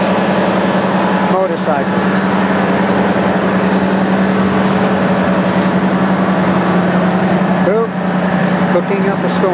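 Motorcycle traffic on a morning town street in Talibon, Philippines, heard as a steady, loud engine drone that runs through the whole stretch, with faint voices mixed in.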